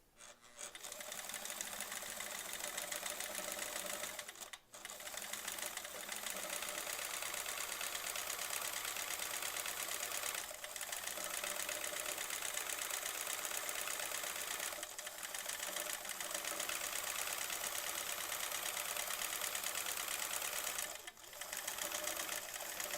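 A home sewing machine runs steadily during free-motion quilting, a continuous fast whirring stitch that carries on almost without break, with brief stops now and then.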